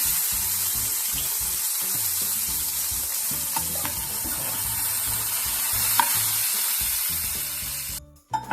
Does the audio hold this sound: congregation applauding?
no